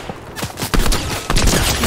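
Fortnite gunfire: rapid bursts of sharp, close shots crackle in quick succession, loud and dense, then grow heavier in the second half.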